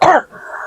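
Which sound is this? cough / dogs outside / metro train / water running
cough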